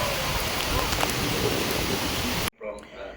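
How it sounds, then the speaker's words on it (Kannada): Heavy monsoon downpour falling as a dense, loud, steady hiss that cuts off abruptly, followed by quieter room sound. "ಎದುರುಗಡೆ ಬಿಲ್ಡಿಂಗೇ ಕಾಣಿಸಲ್ಲ, ಆ ಥರ ಮಳೆ ಶುರು ಆಗುತ್ತೆ"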